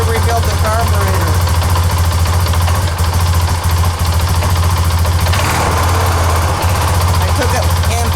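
A 2007 Honda Rancher ATV idling after a cold start following a year of sitting, a loud steady close engine rumble with a constant low throb that runs throughout the clip.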